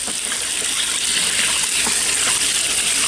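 Water gushes steadily and loudly through a fuel tank as it is flushed out, a continuous close-up rushing splash with no break.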